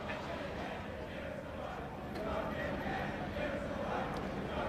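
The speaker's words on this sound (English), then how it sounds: "Crowd really looking to party now." Crowd noise at a Sheffield Shield cricket final between Queensland and South Australia, a steady broad roar of cheering and chatter with cricket commentary talking over it throughout.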